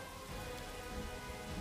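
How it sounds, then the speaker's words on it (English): Rain patters steadily in the video game Pathfinder: Wrath of the Righteous, a soft, even wash of falling drops with a low rumble beneath it and no voices. "It's raining."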